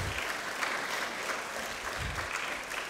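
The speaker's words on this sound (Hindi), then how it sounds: "यहाँ पे उनके लिए भी जोरदार तालियाँ।" A church congregation claps steadily and continuously during a Confirmation service, a dense wash of applause that holds at an even level throughout without any voices on top.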